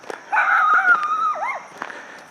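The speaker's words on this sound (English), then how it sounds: "And there's our vicious guard dog." A Chiweenie guard dog lets out a drawn-out, high whining cry that bends downward at the end, nearby, with a few faint taps around it and no talking.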